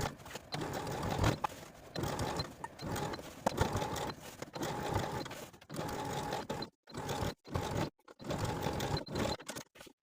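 A sewing machine stitches across a pants waistband in quick rhythmic bursts of needle clatter, stopping and starting several times with short silent pauses between runs.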